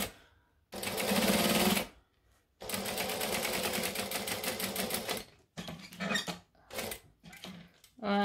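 A sewing machine stitches a backpack in short, slow bursts, each run of rapid stitching separated by brief pauses, close and clear, with a stitch length of about 1.5.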